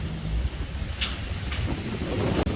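Wind gusting across a microphone outdoors on a snowy Australian mountain trip, a steady low roar and rumble with brief flurries.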